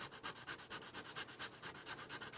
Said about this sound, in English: even using that fine file, all of a sudden we're very smooth there